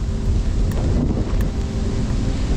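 Wind sweeps across Bald Mountain near Artist's Bluff in Franconia Notch State Park as a storm approaches. It makes a steady, loud, low buffeting rush with gusty swells against the microphone.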